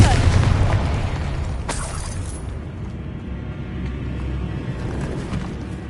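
A Confringo blasting spell going off in Hogwarts Legacy inside an abandoned cave, a loud booming burst with a bright crack near the start, then a low lingering rumble under game ambience.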